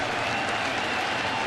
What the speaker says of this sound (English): you're starting to get some of the fans that are standing up and clapping, anticipating the strikeout